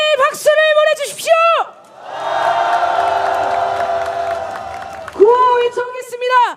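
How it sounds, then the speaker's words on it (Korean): A rally crowd at a candlelight vigil for the Itaewon disaster breaks into loud, sustained applause and cheering for the victims' bereaved families, with a voice calling out before and after the burst. "우리 이태원 참사 유가족분들께 뜨거운 연대의 박수를 보내주십시오"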